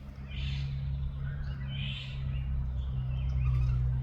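A wild bird calls outdoors in a few thin chirping phrases, fairly faint over a steady low hum of background noise.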